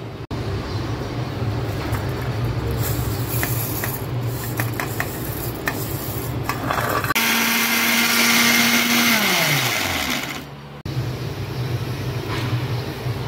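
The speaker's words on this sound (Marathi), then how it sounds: "आधी आपण आहे ना हे सर्व मिक्सरला बारीक करून घेऊया।" An electric mixer grinder blends garlic, cumin and ajwain, a steady loud whir with rattling for about seven seconds, then a higher straining whine that winds down and stops near the eleventh second, followed by quieter room noise. No one speaks.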